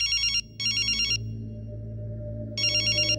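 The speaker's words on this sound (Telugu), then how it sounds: "ఎదవా ఫోన్ ఎత్తడేట్రా" A mobile phone rings and goes unanswered, three bursts of a warbling electronic ringtone with a pause between them, over a low steady hum.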